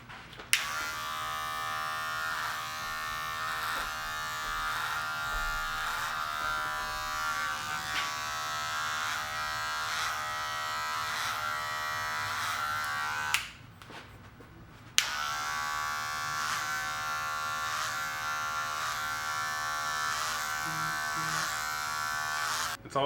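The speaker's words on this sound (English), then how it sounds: "I'm going to use the clip over comb technique. I'm going to do this all the way around." Electric hair clippers working clipper-over-comb on a haircut, a steady close buzzing hum that runs continuously, cuts out briefly near the middle, then resumes.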